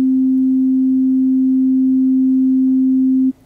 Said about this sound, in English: I'm going to play for you a sine wave,